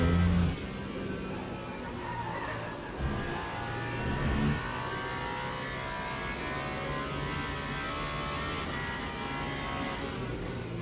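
Race car engine in the sim racing game Le Mans Ultimate, a steady low droning hum held at fairly quiet level throughout, with a brief louder bump near the start.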